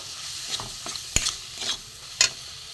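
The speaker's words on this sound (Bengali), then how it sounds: "এবার আমি একসাথে এগুলো কষে নেবো" Spices with grated ginger being stirred and sautéed over a low gas flame for a prawn and taro-leaf chorchori, giving a soft steady sizzle with a few sharper scrapes of the spoon against the pan.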